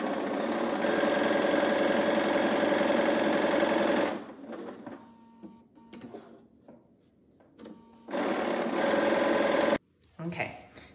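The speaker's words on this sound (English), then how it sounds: "And I am going to sew around it, quarter inch seam allowance." Sewing machine stitching a quarter-inch seam on a patchwork fabric bag, a loud rapid mechanical whir in two long runs separated by a quiet pause with faint handling sounds.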